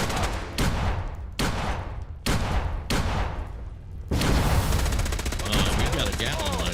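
A Gatling laser in Fallout 4 fires in several rapid bursts, each a dense crackling volley cut by short gaps, then runs into a longer continuous stream of fire with whining tones, loud and close.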